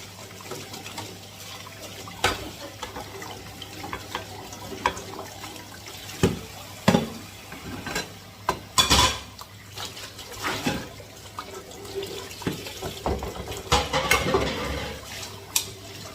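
Dishes being washed in a kitchen sink after a meal: running water with intermittent clinks and clatters of plates and utensils, close and irregular, sharper knocks around the middle and end.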